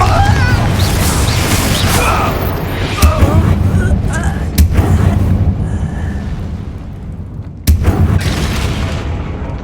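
Blasting spells explode in the Hogwarts Legacy video game, with several heavy booms and crashes of debris over a dense rumbling combat mix, while a voice calls out over the action.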